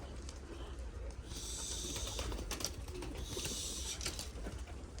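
Pigeons in an elderly man's loft cooing softly in low, throaty repeated calls, with rustling and brief bursts of sharper chirping noise around them, fairly quiet overall.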